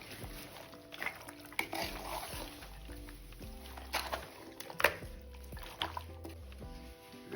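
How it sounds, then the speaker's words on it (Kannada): Mutton pieces are mixed by hand with ground coriander paste, salt and oil, giving soft, close, wet squelching and slapping sounds in an irregular rhythm. "ರುಬ್ಬಿರೋ ಪೇಸ್ಟು ಉಪ್ಪು ಸ್ವಲ್ಪ ಎಣ್ಣೆ ಇದನ್ನು ಹಾಕ್ಕೊಂಡು ಚೆನ್ನಾಗಿ ಕಲಿಸ್ಕೊಳ್ಳೋಣ"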